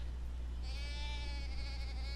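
Sheep bleating in the video game Deiland, a sustained tonal call rising in the second half over a steady low hum, loud and alone with no talk.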